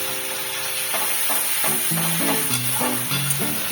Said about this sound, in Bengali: একটু ভাজা ভাজা করতে হবে পেঁয়াজের এই কাঁচা ভাতটা চলে যাওয়ার প্রতি আমাকে একটু ভাজতে হবে